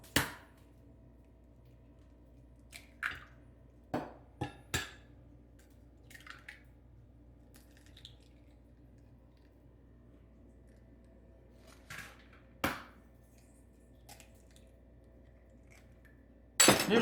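Four eggs being prepared in a bowl for shrimp with cellophane noodles: sparse sharp clinks and cracks against a bowl with small wet drips, close by in a quiet kitchen, scattered irregularly with long pauses.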